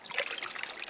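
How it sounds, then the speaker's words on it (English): Gold-bearing gravel swirls in a pan of water during gold panning at a resort in Nome, Alaska, giving a close, continuous trickling and sloshing with small splashes and no voices. "we're going to put it in the water because water is how we separate gold from dirt"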